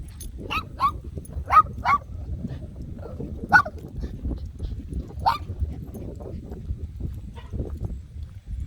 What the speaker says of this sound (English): that little dog right in her face barking like that